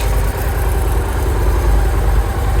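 A Victory Crossroads V-twin motorcycle with 779 miles idles steadily after warming up, a loud, continuous low rumble with even throbbing, close by and with no voices.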